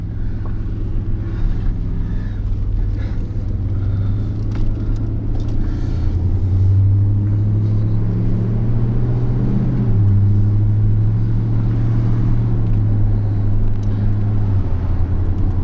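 A lifted Dodge Dakota RT4 pickup drives along with a steady, heavy low engine rumble, loud and close, that holds throughout with slight swells as it pulls; no one speaks.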